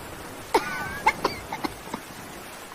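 A mother in a Bengali cartoon coughs, her cough having grown much worse: a string of short, rasping coughs and throat sounds, the first few sharp and close, then fainter ones trailing off.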